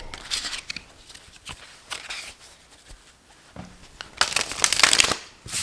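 Tarot cards riffle and slap in several quick shuffles, crisp papery bursts close to the mic, the loudest flurry coming near the end.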